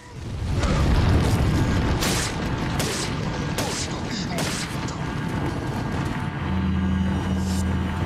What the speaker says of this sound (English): Now we're going to pull out the hand grenade. And go ahead and just toss a grenade at him.